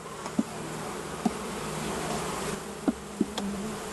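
A steady, dense buzz of many honey bees in a hive close by, continuous throughout, with a few faint taps and knocks.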